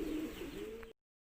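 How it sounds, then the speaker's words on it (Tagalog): Pigeons coo softly close by, a low, throaty, rolling call lasting under a second over quiet background noise, then the sound cuts off abruptly. "Ito mga kalapatids yung ating mga ibon"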